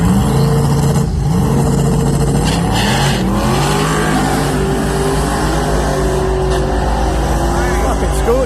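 A twin-turbo Mustang on a race track at a track day, engine loud and close throughout with rising acceleration sweeps and gear changes, steady roar under occasional voices.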